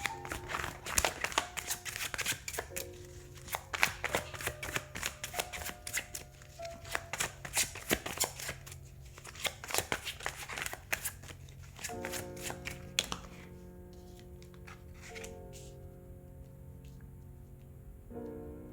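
Tarot cards are shuffled by hand in a rapid, crisp stream of riffles and taps that continues throughout, with soft sustained musical tones entering underneath toward the end.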